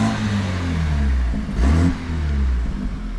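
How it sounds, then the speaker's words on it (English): A BMW F30 bought cheaply from a salvage auction revs loudly in short bursts, the engine note climbing to a sharper peak midway before settling back to a rough, steady idle, with no voices. "Why are you just revving it, bro?"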